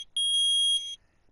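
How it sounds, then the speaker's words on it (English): A metal detector in the Phoenix Wright video game gives a single clear electronic beep. It is a steady, high, bright tone lasting under a second, alone against silence. "Beep, beep, beep. It reacted."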